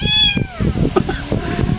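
A cat meows close by, a long drawn-out cry followed by softer, shorter mews.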